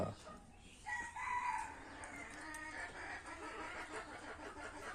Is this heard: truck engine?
no